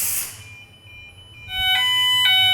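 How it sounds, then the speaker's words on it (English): A fire alarm set off by a standard smoke detector exposed to steam sounds as two sharp repeated electronic tones over a low hum, loud and close, after a quieter stretch. "You can hear the alarm operating now"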